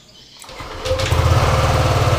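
Yamaha Aerox scooter engine, previously cutting out under throttle, restarted and revved: starts out of quiet, then climbs into a close, steady buzzing drone with a fast pulsing rhythm, with no talk.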